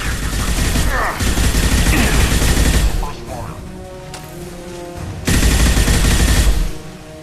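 Rapid bursts of automatic gunfire from well-armed mercenaries in the Xbox 360 game Mass Effect 2, loud and sustained, broken by a quieter pause before another heavy burst, with voices in the mix.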